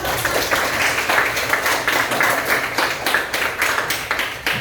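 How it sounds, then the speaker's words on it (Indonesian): Students in an Indonesian-language classroom lesson give a round of applause, steady moderately loud clapping from a small group with an uneven, pulsing rhythm and no talk over it. "terima kasih tepuk tangan"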